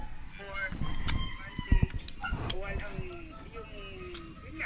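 Chickens on an eggplant farm give faint, brief calls in the background, partly buried under a man's nearby speech and outdoor noise.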